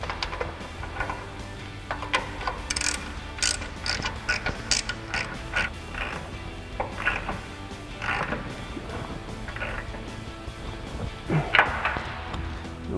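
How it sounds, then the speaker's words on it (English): A ratchet with a 24mm socket snugs down the cam bolt nuts on a Silverado 2500 during a leveling kit install, giving irregular clicks and metallic creaks close by, with no talk. "Now we'll snug our 24mm nuts for our cam bolts back down. Again, with our 24mm socket on our ratchet."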